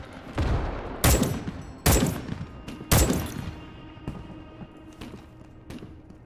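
Gunfire from the Emancipator weapon in Starship Troopers: Extermination, heard as four loud, sharp game shots spaced about a second apart, followed by a few fainter, smaller bursts against a steady low background.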